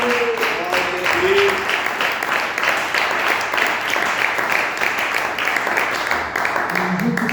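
A church congregation claps in praise, a steady, moderately loud patter of many hands that continues for over seven seconds, with a voice briefly rising above it near the start and end.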